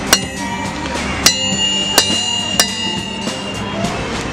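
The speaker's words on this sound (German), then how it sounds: "Und jetzt abschlagen hier. Abschroten." At a medieval market in Pfullendorf, a blacksmith cuts off iron by striking a hot chisel. Four loud, ringing hammer blows land about every second, with softer taps between them, over low background noise.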